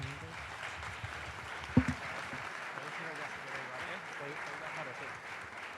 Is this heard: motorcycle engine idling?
no